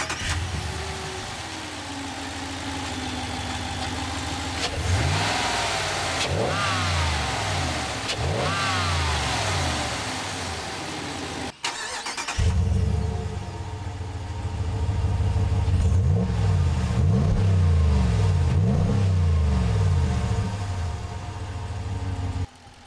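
A 2019 Ram 1500 Laramie pickup with its 5.7-liter Hemi V8 pulls away in two hard bursts of acceleration. Deep engine roar climbs through several gear changes, drops off at a brief cut, then rises again through repeated upshifts, loud and close with no talk.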